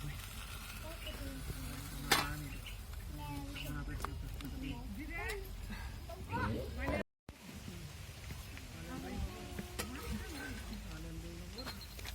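A bottle gourd paratha fries in a little oil on a hot pan, with a steady close sizzle and occasional scrapes and clinks as it is turned, while someone talks over it.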